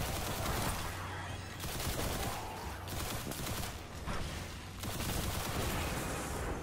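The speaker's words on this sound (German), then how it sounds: "Jetzt ist wieder so ein Teil explodiert" Explosions and gunfire in the video game Destiny, a dense, continuous barrage of bursts and blasts with brief dips, loud throughout.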